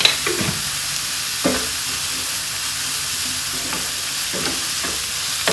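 Onions and cabbage masala sautéing in a pan, a steady loud sizzle and hiss with occasional scraping stirs of a spoon breaking through at uneven intervals, close up and without voices.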